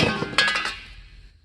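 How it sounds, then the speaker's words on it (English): Hammer strikes on aluminum armor pauldron pieces, a few sharp metallic clinks close by followed by a ringing decay. "Hammering these in"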